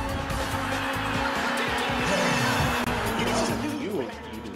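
Cars race in a PS1 racing game demo, with engines whining and shifting pitch as they pass and tires squealing and skidding, dense and loud throughout before easing off at the end.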